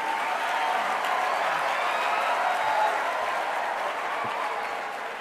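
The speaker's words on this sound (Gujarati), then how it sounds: "એકવાર તાળીઓ માટે શિક્ષકો માટે પણ તાળીઓ આપીએ" Sustained, dense applause from a large crowd honoring teachers at a school event, steady and loud throughout, fading slightly at the end.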